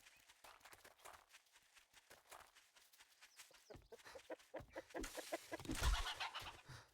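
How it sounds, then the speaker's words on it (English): Chickens in the survival game 7 Days to Die, scattered clucks and fowl calls over patter and thumps, faint at first and growing louder and busier toward the end. "Supposedly you can catch chickens now."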